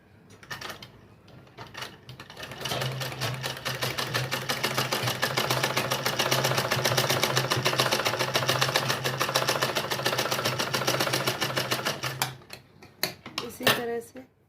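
A sewing machine stitches lace for a lehenga latkan made with a bangle, running in one steady, continuous whir of fast needle strokes for about ten seconds before stopping, with a few light clicks at the end.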